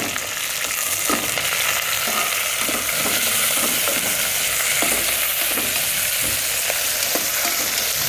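Fenugreek leaves with onion frying in a pan, stirred with a steady loud sizzle and repeated scraping strokes of a spoon at a regular pace, close up with no talking.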